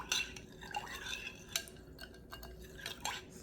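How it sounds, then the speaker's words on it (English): A spoon stirs yeast with sugar and warm water in a bowl, making quick repeated clinks and scraping swishes against the side, close and moderately loud. "what you do is stir that up with the sugar."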